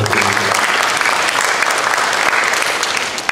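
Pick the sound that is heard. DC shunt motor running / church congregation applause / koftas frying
church congregation applause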